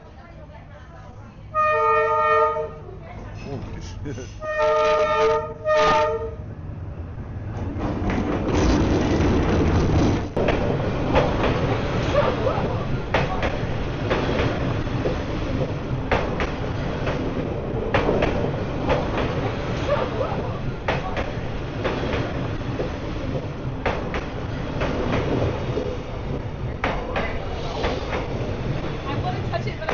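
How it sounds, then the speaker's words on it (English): A train squeezing along Hanoi Train Street in Vietnam, first sounding its horn in several short toots, then rumbling and clattering very close and loud for a long stretch, with people exclaiming over it. "Here we are on Hanoi Train Street, and the train is coming."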